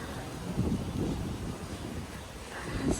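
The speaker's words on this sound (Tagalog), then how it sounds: "Lakas ng hangin." Strong wind buffets the microphone in a continuous rough roar, with gusts swelling and easing; no clear voices.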